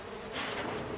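A single honey bee buzzing inside a makeshift shed after a bee removal, a steady, fairly faint drone with a slight swell midway and no talking.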